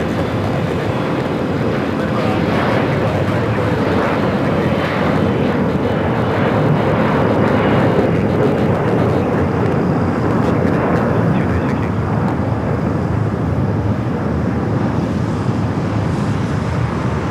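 A 14-year-old Boeing 777-300ER airliner arriving at Los Angeles International from Beijing, heard as a steady, loud engine roar with wind buffeting across the whole stretch.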